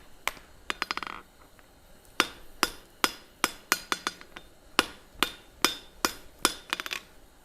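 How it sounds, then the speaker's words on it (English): A forge-welded wrought iron billet is hammered over its whole surface with crisp, ringing metallic strikes, first a fast cluster of blows and then a series of evenly spaced, moderately loud hits with short gaps between them. "I'm hammering the entire surface over."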